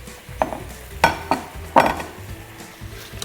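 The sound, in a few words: clementines caramelizing in a pan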